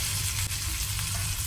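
Ginger garlic paste frying in a pan, a soft continuous sizzle with faint crackles, quiet and close, no talk.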